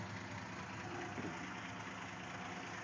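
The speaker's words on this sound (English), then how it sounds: "this car is idling right now. It just idles that quiet." A 1973 Plymouth Valiant's engine idles very quietly, a faint, even low rumble with a soft, steady rhythmic pulse and nothing else over it.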